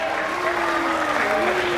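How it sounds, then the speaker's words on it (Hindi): An audience in Mumbai claps, a brief patch of light applause with crowd noise under a sustained tone, and the applause stays fairly even to the end. "तालियां तो बजाओ गाइस, कम ऑन मुंबईकर।"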